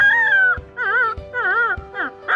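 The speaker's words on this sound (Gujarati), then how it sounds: "આ ગલુડિયો જાણે રામ ભક્ત હોય તેમ રામ રામ બોલી રહ્યો છે" A puppy yelps and whines in four short wavering bursts, close and loud, its voice bending in a way said to resemble the words 'Ram Ram'.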